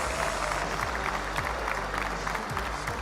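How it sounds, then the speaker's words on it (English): Crowd applause at Yankee Stadium during a baseball event, a broad roaring wash of clapping and cheering with a low rumble beneath, steady and fairly loud throughout. "we'll give him a round of applause anyway"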